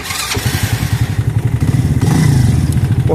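A Spark SP125C-2AMW 125cc motorcycle engine catches and starts up close, rhythmic thumping pulses that quicken into a loud, steady running chug.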